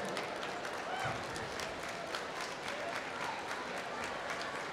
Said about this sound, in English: could you please give our panelists a big round of applause?